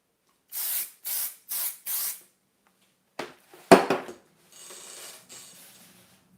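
A spray can sprays paint onto a car drawing in four short, evenly spaced hissing bursts, then after a pause gives a sharper rattling spurt and two softer, longer sprays.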